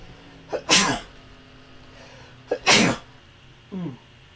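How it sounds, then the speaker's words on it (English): Two sharp, close sneezes about two seconds apart, each with a quick intake before the burst, followed by a smaller sniff-like sound. "I had to sneeze there"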